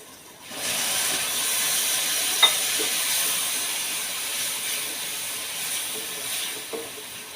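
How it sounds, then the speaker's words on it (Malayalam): After a brief quiet moment, a sudden hissing sizzle erupts as hot water is poured into a pan of roasting onions for egg roast, holding steady with faint crackles and bubbling. "കുറച്ച് വെള്ളം ഒഴിക്കാം"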